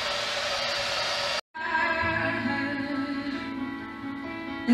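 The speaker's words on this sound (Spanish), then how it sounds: "Secador." A hair dryer blows with a loud, steady whooshing hum, cuts off briefly for a moment, then starts up again and runs on with a slightly shifting tone.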